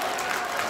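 Brief burst of audience clapping thanking a panel at a Korean political talk event, a steady dense patter of many hands at moderate level, cut short.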